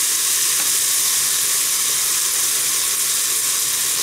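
Ingredients sauté in a hot pan for a soup, with a loud, steady, close sizzle and hiss running unbroken throughout, with no talking.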